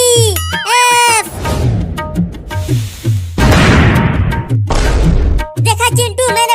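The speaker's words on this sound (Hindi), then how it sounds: "चलो अब ये पटाखा भी फोड़ते हैं।" A cartoon firecracker bursts into a loud, broad crackling blast for about a second midway through, with high, chirpy cartoon voices talking before and after it.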